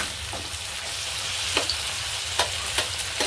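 Prawns shallow-fry in oil in a pan with a dense, steady sizzle, punctuated by a few sharp crackles and pops as they are turned.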